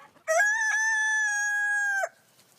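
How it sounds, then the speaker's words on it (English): A rooster crows once, a loud, close, drawn-out call held for nearly two seconds before cutting off, with only faint background sound around it. "The family first discovered that Doody was a rooster when he began crowing in the early hours of the morning"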